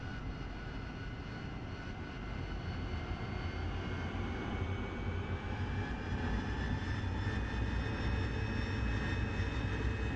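Jet aircraft engine in a flight-sim game (DCS or War Thunder) spooling up for takeoff, a steady loud roar with rising whine tones, continuous and alone throughout.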